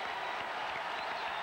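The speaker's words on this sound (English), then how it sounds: "A victory cheer by the Bulls" Crowd at a 1994 college basketball game between Louisville and South Florida cheering and applauding for the South Florida Bulls, a steady, dense roar of clapping and voices throughout.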